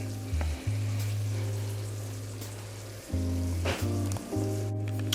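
A pan sizzles for a chorizo omelette, a steady frying hiss with a low hum underneath and a few brief clatters and shifts partway through, close and continuous.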